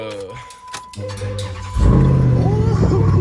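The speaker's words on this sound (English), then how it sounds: "We're gonna crank the truck up" An engine cranks and catches, then settles into a loud, steady rumbling idle after a few clicks and rattles.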